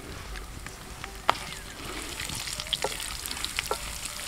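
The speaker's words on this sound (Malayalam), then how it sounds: "അപ്പോൾ എണ്ണ ചൂടായിട്ടുണ്ട്. അതിലേക്ക് നമുക്ക് നമ്മുടെ തേങ്ങാക്കൊത്ത് ഇട്ട് കൊടുക്കാം." Coconut pieces sizzle in hot oil with a steady crackling fry, punctuated by a sharp spoon clank and several lighter stirring clicks near the end.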